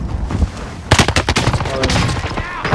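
Gunfire in the video game Warzone Pacific: a sharp burst of rapid automatic shots rings out close, followed by scattered further cracks and echoes.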